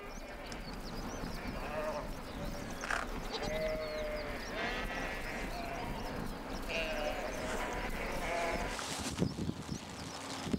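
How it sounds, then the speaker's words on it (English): Repeated sheep bleats from a flock crossing a highway in Tibet, several animals calling at intervals over a continuous outdoor background rumble. "We encounter herds of sheep crossing the highway."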